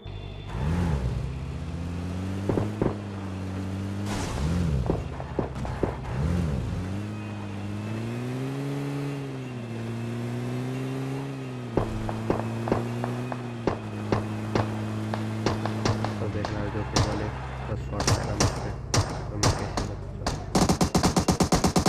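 A UAZ jeep in PUBG Mobile, its engine revving and shifting in pitch, with a door thud partway through and a burst of clatter and impacts toward the end.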